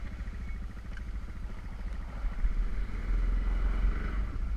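A Yamaha Grizzly 700 ATV pushes through snow in two-wheel drive, its engine a low chugging rumble with rhythmic throb, swelling louder midway as the throttle opens, fairly close and unaccompanied by talk.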